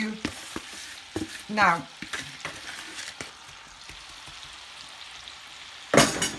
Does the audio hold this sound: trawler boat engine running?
no